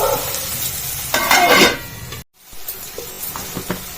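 Onions stirred with ginger-garlic paste in a hot pan: scraping spoon strokes and a rising sizzle, a brief gap of silence, then quieter stirring and light clinks against the pan.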